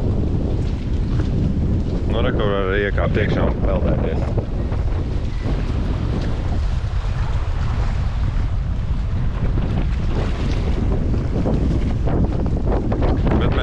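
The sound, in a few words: strong wind at a beach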